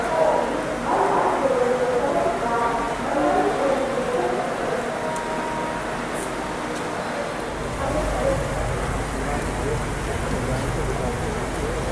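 Heavy monsoon rain pours steadily at a railway station at Kalyan, a loud, continuous broadband wash with no pauses.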